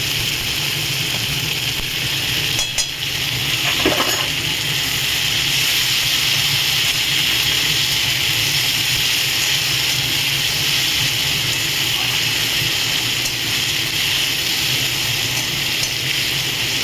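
Chopped chillies, tomato and ginger sizzle in a pan with a steady, loud, hissing fry that carries on unbroken throughout, with a couple of brief clatters from stirring.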